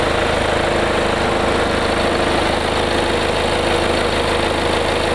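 A Kia All New Carnival minivan engine idles loud and close, with a constant rumble and even mechanical ticking and no change in pitch throughout.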